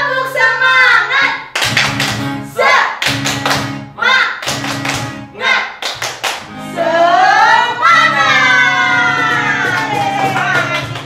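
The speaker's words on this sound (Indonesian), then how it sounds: "Kita tepuk semangat ya." Children at a Sunday school Ascension service at HKBP Bandung Barat perform the tepuk semangat chant, with sung and spoken voices punctuated by bursts of rhythmic group clapping, followed by a longer sustained vocal line.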